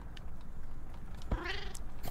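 In the video game Please, Touch the Artwork 2, a cat lets out a single rising meow with a slightly whiny, caterwauling edge, close and distinct above a faint background hum.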